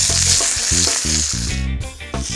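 Chicken sears in a pan over a campfire, a loud continuous sizzle and crackle close up, broken by rhythmic low knocks and scrapes of cookware being shifted; no talking.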